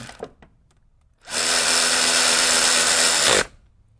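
A power tool tightening 10mm bolts on the alternator of a 2014 Chevrolet Malibu gives one steady, loud whir of about two seconds, preceded by a few faint clicks and then stopping abruptly.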